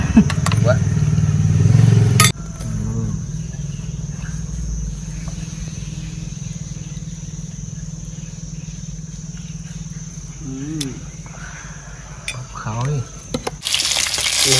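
Cá linh fish fry in a pan with a loud, dense sizzle at first that settles into a quieter steady crackle, with occasional clinks and voices talking nearby.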